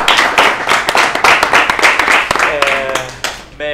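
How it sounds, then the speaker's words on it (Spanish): A live audience claps to welcome an ontological master coach to the stage, a loud run of sharp, fairly regular hand claps that thins out near the end as a voice starts speaking over it. "un aplauso para él."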